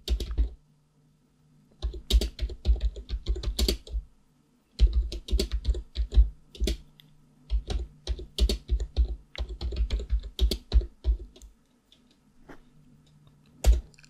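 Typing on a computer keyboard while entering Ubuntu update commands on a VPS, bursts of quick close key clicks separated by short pauses, with no talk.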